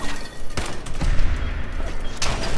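Rapid gunfire strikes the player character in Fallout 4, a loud, busy barrage of shots and impact thuds with a few sharper bursts standing out, continuous through the whole moment.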